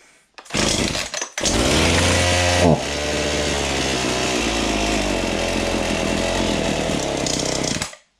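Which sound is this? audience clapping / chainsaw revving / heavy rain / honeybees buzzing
chainsaw revving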